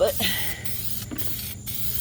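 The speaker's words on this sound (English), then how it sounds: "I tend to spray a little wet so that I get less orange peel" A spray gun applies paint to the barrels of refinished Redline wheels for a 2004 Saturn VUE, laying it on slightly wet. Short, close hissing bursts of spray repeat over a low background hum.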